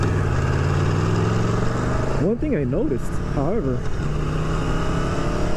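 Aprilia Tuono Factory 2018 motorcycle engine droning steadily at mid revs while riding, loud and continuous under someone talking throughout.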